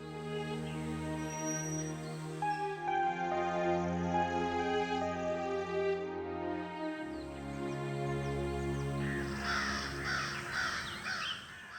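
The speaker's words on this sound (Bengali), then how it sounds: "ঘরের উঠোনে একটা গাছের ডালে অনেকগুলো কাক বসে থাকত।" Several crows caw in a cartoon village yard, perched on a tree branch, their harsh repeated calls layered over a sustained musical backing that runs throughout.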